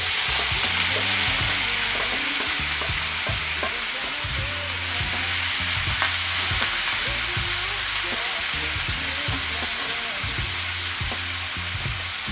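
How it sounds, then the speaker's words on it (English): Shrimp cooking in hot curry with coconut milk in a pot, a steady hissing sizzle with soft repeated stirring knocks running throughout at moderate level. "Alright, so right here is the pot with my curry, and it's now time for me to put my shrimp in."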